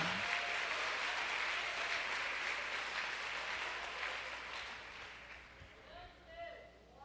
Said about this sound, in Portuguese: Você consegue aplaudir ao Senhor pela sua palavra agora?